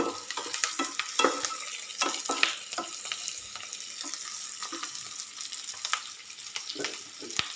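Seasonal leafy greens with green chillies sizzle and fry in a pan, a steady crackling hiss broken by intermittent scraping stirs, close and moderately loud with no talking.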